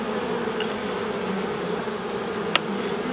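Honey bees swarm around an open beehive on a warm day, making a dense, steady buzz that holds for the whole stretch, broken only by one small click near the end.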